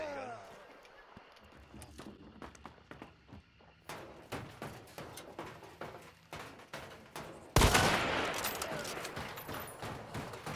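Gunfire in the shooter game Hunt: Showdown comes as a rapid string of sharp, distinct shots, with a much louder blast near the end and a ringing tail, while players talk in the background.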